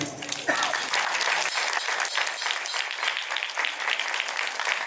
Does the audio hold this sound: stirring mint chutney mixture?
no